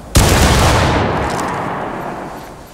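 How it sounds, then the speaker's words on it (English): A massed musket volley in War of Rights, an American Civil War game, erupts as one loud, close blast whose rolling echo fades slowly over a couple of seconds. "Take aim. Rise. Fire."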